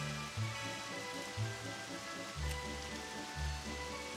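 Rain and wind on a golf course in the Disney Golf PS2 video game: a steady, soft wash of falling rain, with low thudding pulses beneath.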